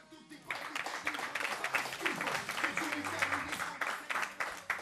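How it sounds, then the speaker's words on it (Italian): Studio audience applauding as a guest singer is introduced on an Italian TV show, a steady wash of clapping that starts abruptly and carries on with voices and cheering mixed in. "Un applauso!"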